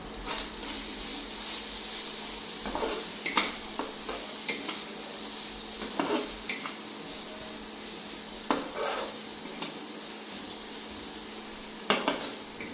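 Spice paste of ground cinnamon, cumin and coriander with green chilies frying in a pan, a constant hissing sizzle broken by repeated scraping stirs and occasional clanks of a utensil against the pan.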